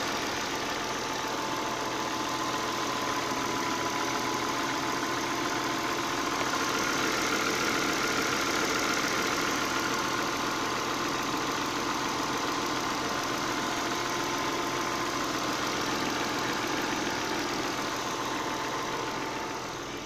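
Audi A4 B6 sedan with a 3.0 V6 Quattro engine idling steadily, a constant even hum with no talk over it, held at a steady level for about twenty seconds.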